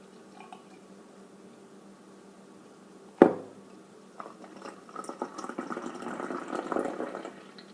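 Dry stout beer poured from a freshly opened can into a glass, a sharp clink followed by steady, bubbling, fizzy pouring that builds and continues to the end, quiet and close.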